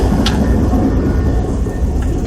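A diesel locomotive on the Niles Canyon Railroad rumbles loudly and steadily, a dense low-frequency drone holding throughout with a couple of faint higher clicks, close by and with no talk over it.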